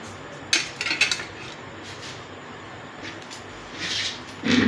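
Potatoes being dished out of a pan, with a few scraping clinks of a serving spoon against metal in short bursts, then quieter gaps and another scrape near the end, under a steady faint background hiss.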